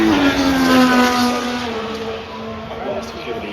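A Formula 1 car at Silverstone crosses the line on a flying lap during 2025 qualifying, its high engine whine steady and then gradually dropping in pitch as it passes and recedes, with crowd noise around it.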